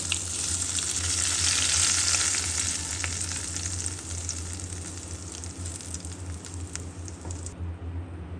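Round red chillies and cumin sizzle steadily in hot oil for a tarka meant for potato raita, a dense close frying hiss that swells early then settles, with no talking.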